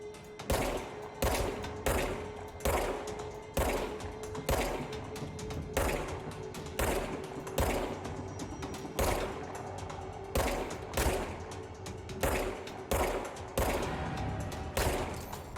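Gunfire in the video game Control, a steady series of loud, sharp shots spaced roughly every half second to second as enemies are picked off at range, with no talk over them.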